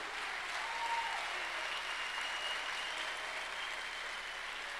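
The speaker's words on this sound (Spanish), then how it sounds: "Démosle palmas al Señor." A church congregation clapping together in a steady, continuous wash of applause, moderately distant and even in level throughout.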